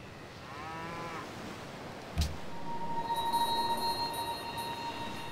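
Cattle mooing in the strategy video game Civilization V, with a drawn-out cow moo early and another lowing call later over a steady game ambience and faint tonal music.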